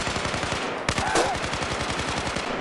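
Rapid automatic gunfire in Battlefield 4, a steady close burst of evenly spaced shots running throughout, with a brief louder blast partway through.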